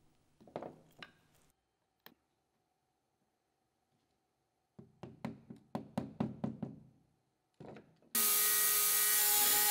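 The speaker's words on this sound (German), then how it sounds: "Die Dots aus Ahorn werden einfach aus dem Block herausgebrochen und in die Ausfräsungen eingeleimt." Maple wood dots being broken out of a block and glued into recesses in a jazz bass guitar body: sharp woody cracks and rapid knocking clicks in short bursts separated by quiet, ending in a sudden loud hiss.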